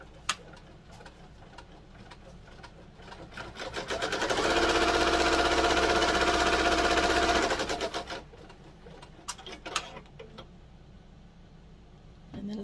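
An embroidery machine stitches down an in-the-hoop notebook cover, its steady mechanical whir rising loud in the middle stretch for about four seconds, with quieter handling clicks and taps before and after.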